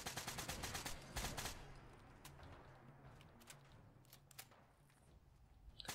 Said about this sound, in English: It also has a unique firing sound, and it's a very authentic looking weapon when you compare it to the real life version.